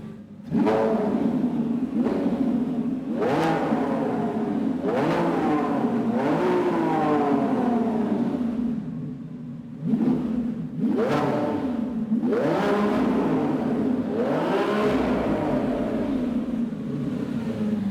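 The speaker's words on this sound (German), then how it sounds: "der Motor dreht viel und zwar viel langsamer hoch" A Lamborghini Revuelto's engine revs up repeatedly, six or seven strong climbs that rise fairly slowly and fall back between them over a steady loud rumble, heard close with no talking.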